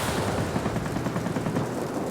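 Rapid 30mm cannon fire from a Messerschmitt P.1102B jet in the World of Warplanes combat game, a dense, continuous stream of loud, close shots with no talking.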